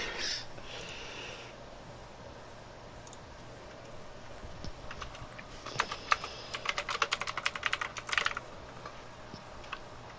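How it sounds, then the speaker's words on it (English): Typing on a computer keyboard, in soft scattered keystrokes that build into a denser, louder burst of clicks near the end, close by, with no talk. "I'm typing on my keyboard now."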